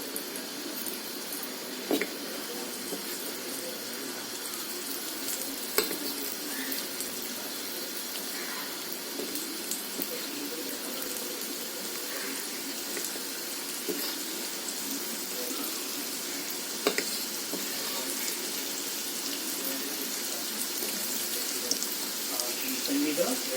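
Batter for kara appam sizzles steadily in hot oil, a continuous broadband crackle with occasional sharper pops, moderately loud and unbroken throughout.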